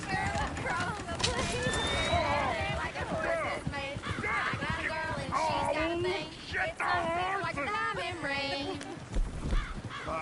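Horse hooves clopping with a whinny in a Western video game, heard under ongoing character dialogue and town ambience.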